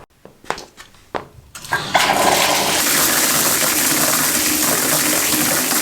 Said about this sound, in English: I think I have time to take a quick shower this morning